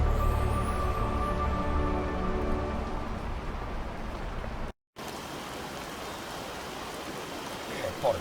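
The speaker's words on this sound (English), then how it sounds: "Yes, indeed the rain is annoying" Heavy rain in the video game Mystery of Neuschwanstein hisses continuously, loud and close, then cuts out for a moment before resuming as a softer, steady downpour.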